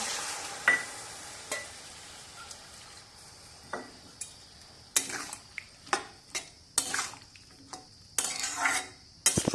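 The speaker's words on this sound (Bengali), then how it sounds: "এবার দেবো জল" A spoon stirs frying pumpkin shoot and potato curry in a pan after water is poured in, with a low sizzle under a series of sharp, close scrapes and clinks against the pan at irregular intervals, no talking.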